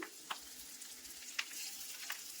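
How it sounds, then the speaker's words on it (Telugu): Chicken with chopped coriander fries in a pan, a faint, low hiss broken by a few short crackles and pops, quiet and close with no voices. "కొత్తిమీర వేసుకున్నాక 1 నిమిషం చక్కగా ఫ్రై చేసుకోవాలండి."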